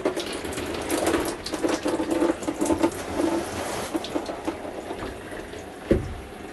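Hot water runs from the tap of a 2020 Jayco Eagle 29.5 BHDS RV with low hot water pressure. The flow is a steady, fairly soft splashing, and a single thump sounds near the end.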